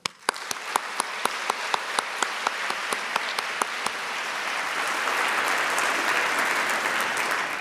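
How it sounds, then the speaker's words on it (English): Audience applause at the Cal State Fullerton 2022 convocation opens with crisp, rhythmic single claps and swells into a dense, sustained roar of clapping from a large crowd that keeps going to the end. "I think that deserves a round of applause"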